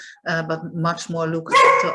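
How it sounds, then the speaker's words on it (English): A pet dog barks at night in the Netherlands, watching for strangers, with several sharp barks mixed in under a person's talking. "that is my dog."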